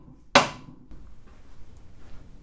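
A single sharp hammer whack on an LS engine crankshaft, knocking it backward to set thrust clearance, rings out loud and close, then fades into a low, quiet shop background.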